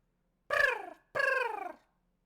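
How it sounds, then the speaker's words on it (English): A bird or chick gives two separate drawn-out calls, each falling slightly in pitch, clear and close with a short silence between them and nothing else around. "You just hear bird noises"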